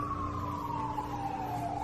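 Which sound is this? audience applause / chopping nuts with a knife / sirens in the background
sirens in the background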